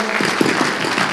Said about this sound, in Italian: Vorrei un applauso per loro perché fanno un lavoro meraviglioso.